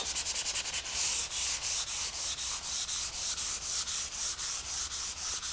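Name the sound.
lightly sanding wood with 400 grit sandpaper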